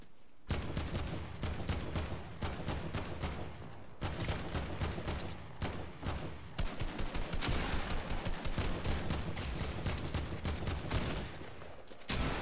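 Pirate cannons fire in Fortnite, a dense run of sharp repeated blasts in fast bursts, loud and close, with short pauses between volleys.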